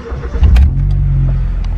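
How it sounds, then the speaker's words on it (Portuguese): A Honda car engine with stainless steel headers cranks briefly and catches, then settles into a loud, steady idle close by. "Vamos ligar aqui o carro."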